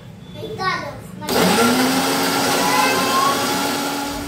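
An electric blender running a strawberry milkshake, kicking on abruptly after a voice and then whirring loud and steady nearby until the end.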